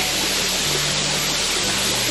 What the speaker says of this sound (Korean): 원각 폭포를 처음 보는데